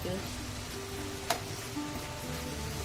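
Chopped onions, ginger and garlic sautéing in a pan, a steady soft sizzle and crackle running throughout with a brief clink of a utensil, with a voice speaking over it.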